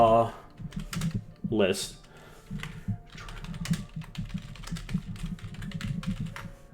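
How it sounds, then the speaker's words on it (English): Loud typing on a computer keyboard, rapid clustered key clicks running steadily throughout, close and prominent, with a brief voice near the start. "you hear the keyboard typing"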